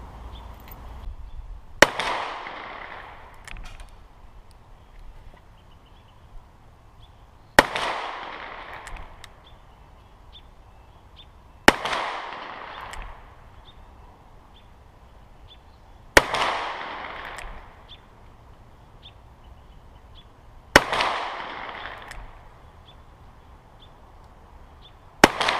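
.327 Federal Magnum handloads fired one at a time over a chronograph, five loud, sharp reports spaced about four to five seconds apart, each trailing off with a brief echo.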